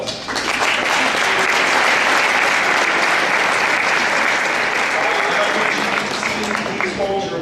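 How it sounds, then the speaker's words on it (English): Sustained, loud applause from an audience at a winter sports awards event, a dense steady clapping for a coach that fills the whole stretch without a break. "so I'd like to give them a round of applause"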